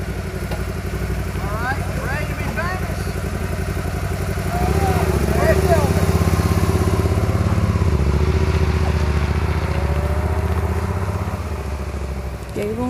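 Can-Am off-road vehicle engine idling and revving steadily, growing louder partway through as it sets off, with people talking over it.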